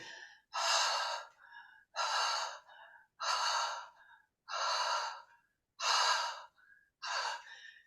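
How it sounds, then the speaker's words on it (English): Six fast, deliberate breaths, each with a loud, forceful airy exhale and a short inhale, close and even in rhythm with silence between. "If you start breathing a little faster, make sure you focus up more on the exhale than the inhale so you don't hyperventilate."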